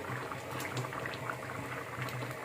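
Bottle gourd and chana dal boil in a pot, a steady, close bubbling and gurgling that runs without a break, with no voices over it.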